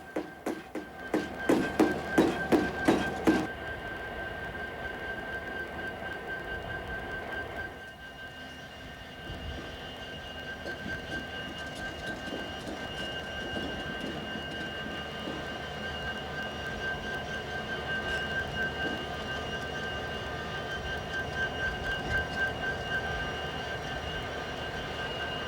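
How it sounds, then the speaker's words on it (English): A BN coal train unloads coal onto a conveyor at a power plant: a few seconds of loud clattering bursts, then a steady, droning rumble of machinery with a faint whine running underneath. "The BN train is unloading coal, which is conveyed up to the tripper car gallery"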